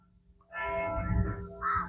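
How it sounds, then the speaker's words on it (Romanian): Church bells ring briefly, a sustained resonant tone swelling over a low rumble, heard at moderate distance with no talking. "S-au oprit clopotele."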